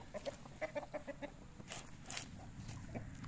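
Chickens cluck in a quick run of short notes, fairly close, then fade into quieter rustling and background noise.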